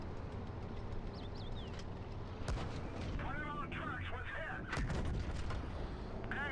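A tank cannon firing in World of Tanks Blitz during a Caernarvon battle, heavy booming shots with rumbling battle noise beneath, one sharp blast near the middle and another later.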